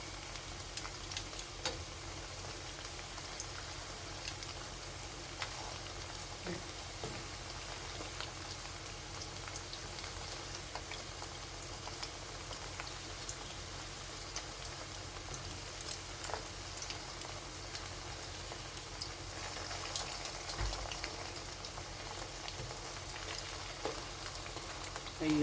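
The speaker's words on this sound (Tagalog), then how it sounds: "So, kailangan nating i-pan fry." Pork bola-bola meatballs pan frying in oil, a steady soft sizzle and crackle with scattered pops continuing evenly throughout, fairly quiet and close.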